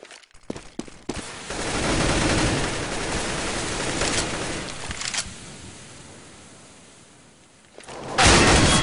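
Counter-Strike gunfire sprays through smoke in a match, with several quick sharp shots at the start, then a sustained burst of rapid fire that tapers off before a loud closing blast.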